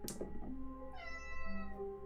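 A cat meows clearly and close by, with a couple of tonal calls rising and falling over a steady low background hum. Nobody speaks.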